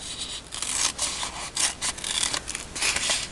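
Scissors snipping around stamped paper in a card-making session, heard as a close run of quick, uneven rasping cuts with short pauses, no voices.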